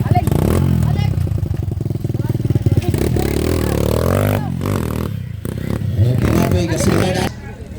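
Enduro motorcycle engines roar and rev loudly throughout an enduro cross race in Rizal, Palawan, with clattering and a crowd murmuring nearby, the engine noise dipping briefly near the end.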